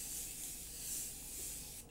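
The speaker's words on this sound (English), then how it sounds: "Usual Morphe Continuous Setting Spray." Morphe Continuous Setting Spray misted onto a face as makeup setting spray: a steady, close, hissing aerosol spray lasting about two seconds, swelling slightly midway, then cutting off abruptly.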